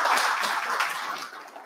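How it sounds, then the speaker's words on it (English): An audience at a startup showcase event applauds, a dense wash of clapping that starts full and tapers slightly over under two seconds. "Now you can clap."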